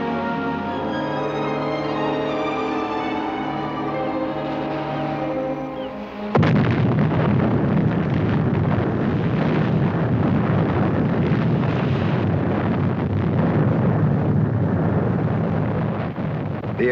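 Submarine rigged with explosives blows up offshore, a sudden loud blast at about six seconds that gives way to a sustained, roaring broadband rumble lasting to the end, preceded by a steady tonal hum.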